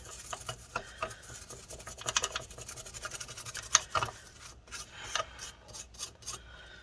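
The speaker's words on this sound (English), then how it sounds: "Let's go ahead and brush this up a little bit more." Brush scrubbing a corroded KO Racing circuit board wet with rubbing alcohol, a quiet raspy scratching in short repeated strokes, close up with no talk.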